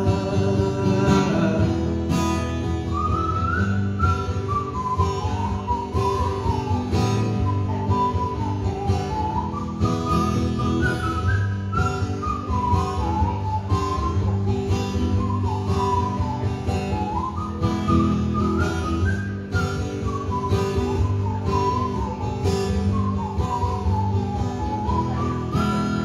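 A melodic whistled tune rises and falls over a full band backing at the end of a song, steady and prominent throughout, with no singing or talking.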